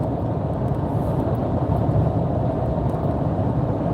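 Inside a truck moving down the road, a steady broadband rumble of road and engine noise continues without a break, even and moderately loud.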